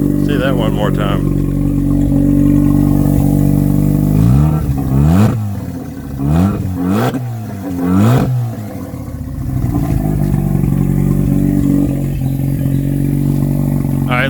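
Non-turbo Mazda RX7 rotary engine running with no Y pipe or exhaust, a loud raw drone near the microphone, rising and falling through several sharp revs in the middle before settling back to a rough idle.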